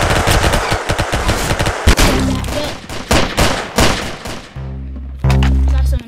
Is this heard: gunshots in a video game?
yes